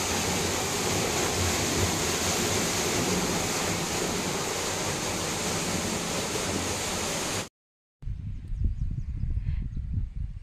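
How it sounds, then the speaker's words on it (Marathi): Water from another well pours steadily into a farm well as a loud, continuous rushing roar, broken by a short silence before a lower, splashing gush resumes. "आम्ही दुसऱ्या विहिरीतून पाणी आणतो, ते ह्या विहिरीत सोडतो"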